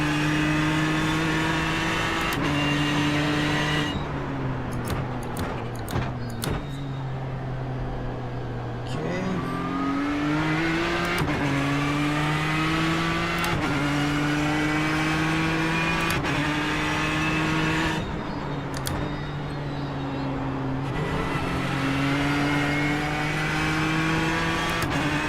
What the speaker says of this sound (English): This is the turbo lag, but the car actually has quite a difficult time launching.